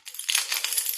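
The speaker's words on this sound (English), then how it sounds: "give your keys a jingle and a jangle and a play about" A bunch of metal house keys shaken and jingled close by, a steady bright clinking and rattling that carries on for about a second with no talk over it.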